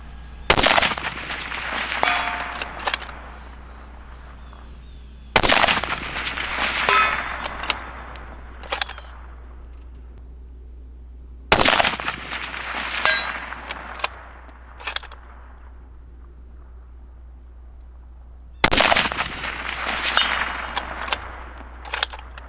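Four rifle shots fired at steel plates 385 yards away, each a sharp loud crack followed by a ringing decay and scattered faint metallic clangs, spaced several seconds apart over a low steady hum.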